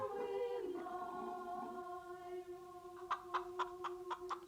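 Chickens in a rustic film village setting, a drawn-out tonal call giving way to a run of short, sharp clucks near the end, fairly close against quiet background.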